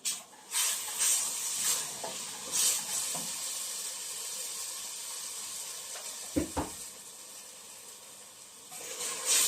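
Tomato paste hitting a hot pan and being stirred, a quiet continuous hiss with a few sharper scraping bursts, fairly faint and without speech.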